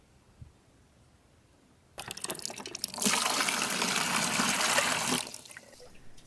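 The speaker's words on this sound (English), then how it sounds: "I then decided to give the fruit a little wash with the water from the well." Well water pours and splashes over fruit being washed, starting abruptly, then swelling into a loud steady rush for a couple of seconds before easing to a lighter trickle, close by.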